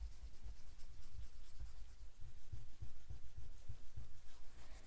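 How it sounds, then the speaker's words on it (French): An eraser rubbed over a plate used to build a window box for chocolate, producing quiet, rhythmic scrubbing strokes in quick repeated bursts, close and soft. "Je passe juste un petit coup de gomme parce que j'ai quelques petites imperfections qui étaient sur ma plaque."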